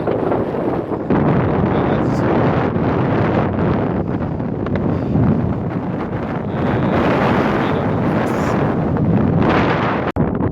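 Wind at the Alpine summit of Berriot Blanc roars and buffets the microphone in a loud, continuous rush, with a single sharp click near the end.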